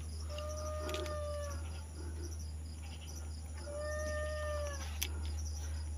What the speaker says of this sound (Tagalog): Parang pusa.